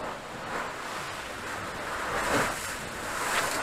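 Wind blowing through a scene of the Reksio children's adventure game, a steady airy rush with gentle swells, heard alone and fairly close without any talk.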